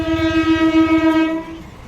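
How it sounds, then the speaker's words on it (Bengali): A passing train sounds a long, loud, steady horn close by, its tone holding for over a second before fading slightly, with a rumble of rail noise underneath. "এটা দিয়ে একটা ট্রেন ছুটে চলেছে।"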